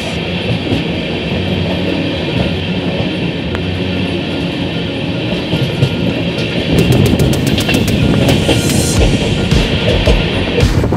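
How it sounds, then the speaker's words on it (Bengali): The Ajmer Sealdah Express pulls away from a platform, its wheels rumbling steadily on the rails with rhythmic clicks and metallic clatter growing busier toward the end, loud and close throughout. "4 নম্বর প্ল্যাটফর্ম থেকে আমাদের ট্রেন ছাড়লো"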